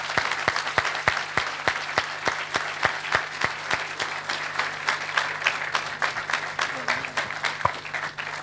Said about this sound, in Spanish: Aplauso grande para Jorge Asís